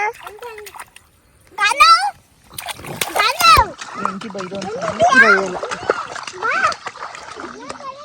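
Children splash and play in water outdoors, with loud bursts of splashing and sloshing as kids' excited voices and chatter carry over and between them.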